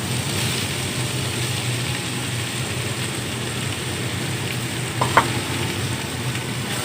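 Khoa (250 g) is stirred into lauki (bottle gourd) halwa frying in a pan, giving a steady, close sizzle with a soft scrape of the spoon near the end.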